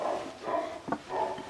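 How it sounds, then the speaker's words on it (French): Dogs bark in the morning in China, a few short, muffled barks and whimpering yelps at moderate distance, rising and falling over a steady background. "Les chiens n'arrêtent pas d'aboyer."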